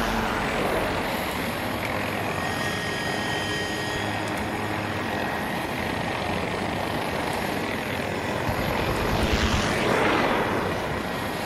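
Helicopter in the Battlefield video game: a loud, constant rotor and engine roar fills the whole stretch, swelling briefly near the end with no talk over it.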